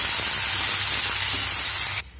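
Ginger garlic paste and cumin seeds sizzle in hot oil for dal tadka: a loud, close, steady hiss that cuts off abruptly near the end.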